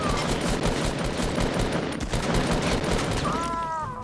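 Rapid video game gunfire, a dense continuous automatic burst of loud shots throughout, ending with a brief whistling game tone.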